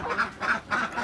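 Alabio laying ducks quack three times in a steady rhythm, loud and close, with no talking.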